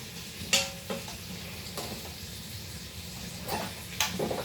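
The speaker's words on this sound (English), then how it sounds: "Alright, so I'm sauteing that." Soft, steady sizzling of food sautéing in a pan, with occasional scrapes and clinks of a utensil stirring.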